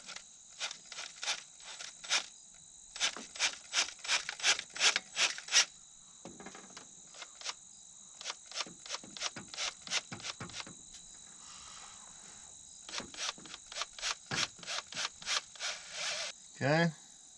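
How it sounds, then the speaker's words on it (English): A drill bites into an aluminum cylinder head from a built Dodge Challenger R/T engine, close up in short grinding bursts, several quick runs, a pause, then more runs. "this is aluminum, so it's gonna drill very easy"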